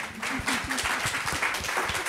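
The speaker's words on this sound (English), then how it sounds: "I think round of applause." Audience applause at a classroom-focused panel discussion, steady dense clapping throughout at moderate loudness with a faint voice underneath.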